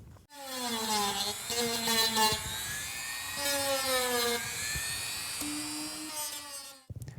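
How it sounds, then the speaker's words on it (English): A small Dremel rotary tool grinds and tapers the edges of a hole in fiberglass during a repair, its high whine rising and falling in pitch over several close, continuous passes before stopping abruptly. "we're going to come in with a little Dremel tool, and we're just going to dish out or taper the sides around here"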